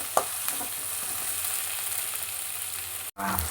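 Half a handful of mint leaves frying in a pan for mutton paaya soup, a steady close sizzle with faint stirring scrapes and a brief break near the end.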